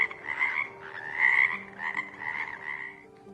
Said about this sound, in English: frogs started making loud noises for several days